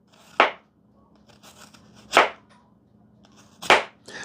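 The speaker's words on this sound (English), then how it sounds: "Let's cut up some red onion, nice and thin." A knife cuts thin slices of red onion on a board: three sharp, crisp chops spaced about a second and a half apart, close and loud against a quiet background.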